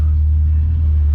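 A rescued, long-abandoned 1962 Ford Falcon Tudor rolls along a road, giving a steady, close, low engine and road rumble that holds even for about a second with no voices.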